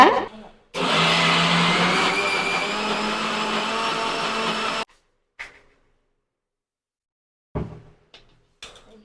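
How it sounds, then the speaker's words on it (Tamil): A mixer grinder whirs loudly for about four seconds, grinding paal paniyaram batter with salt until fine, then cuts off abruptly, followed by a few faint clicks and knocks of the jar. "நைஸாக அரைச்சிக்கலாங்க"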